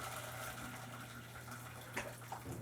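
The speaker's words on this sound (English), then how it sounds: "Rinse my plate with hot water so it doesn't crack." Hot tap water runs steadily over a plate while rinsing it in a kitchen, a faint continuous splashing stream with a low hum beneath and a couple of brief clinks near the end.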